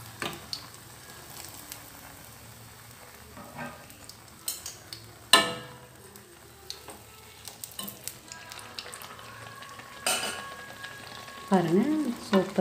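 Sweet appam (neyyappam) frying in hot oil in an appam pan, a steady close sizzle with sporadic louder splashes and scraping as oil is spooned over the puffing batter.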